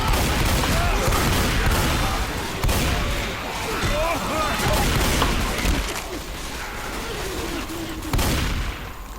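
Rapid gunfire bursts from Left 4 Dead 2 gameplay on the Fatal Freight campaign, dense and loud throughout, mixed with chaotic game noise and brief voices.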